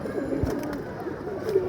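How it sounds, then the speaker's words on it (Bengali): A silver beji crossbred pigeon coos softly nearby, a brief low call over faint background noise. "মাশাল্লাহ আমার একটা সিলভার বেজি কবুতর"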